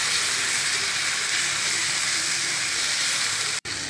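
Prawns sautéing with ginger garlic paste and chili in a hot pan, giving a steady, loud, close sizzling hiss that runs almost unbroken, with one brief cut near the end.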